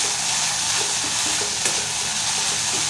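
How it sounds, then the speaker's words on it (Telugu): Stirring a sago (saggubiyyam) mixture in a pan after ginger-garlic paste has been added, giving a steady, close sizzle with soft scraping strokes throughout and no talking. "ఇప్పుడు మళ్ళీ ఒకసారి కలుపుకుందాం"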